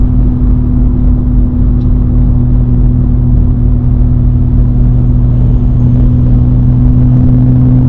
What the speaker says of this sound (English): as soon as you try to speed up a little bit, you know, you're going to hear the exhaust a bit